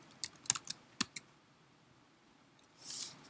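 Keys clatter on a computer keyboard in a short quick burst of close, crisp taps, then a pause and a soft brush of sound near the end, with no talking.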